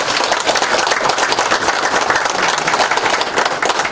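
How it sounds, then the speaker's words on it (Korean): A hall crowd at a Democratic Party preliminary candidates' debate in Guri claps loudly and densely throughout, a continuous wash of applause with no pauses. "힘찬 응원의 박수 부탁드립니다"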